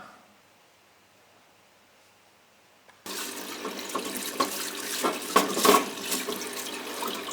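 Running tap water washes turbocharger parts from a Citroen Despatch or Berlingo, starting abruptly after a quiet moment and continuing as a steady splashing rush with occasional louder spatters nearby.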